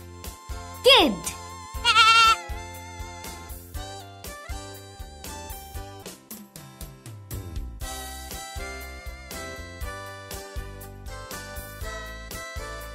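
A young goat, a kid, gives two short high bleats early on, loud and close, followed by a long stretch of cheerful plinking music with a steady beat from a children's animal-matching activity.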